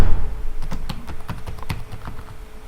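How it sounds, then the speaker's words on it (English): Typing on a computer keyboard, a quick run of distinct close key clicks in an uneven rhythm, with no voices. "try here by typing"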